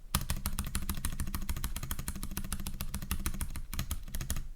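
Rapid, steady typing on a Keychron K3 V2 slim keyboard, a dense run of crisp close key clicks with heavier thuds from a loud space bar, continuous with no talk.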